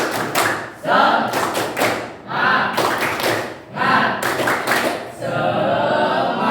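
Students in a classroom performing a tepuk semangat spirit clap, rhythmic bursts of group clapping and thumps in several quick clusters, loud and close, with a brief shout woven in.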